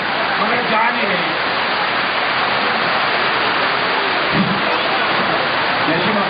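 Heavy rain pours steadily and loudly at an outdoor Sahaj Yoga seminar in Juddo, Uttarakhand, a dense continuous wash of noise with faint voices beneath it.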